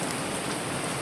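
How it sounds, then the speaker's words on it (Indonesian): Steady rain pours down at a mountain trail rest post, a dense, even hiss of drops that fills the air closely, with no voices. "kita sampai di pos 3 tapi keadaan cuacanya hujan"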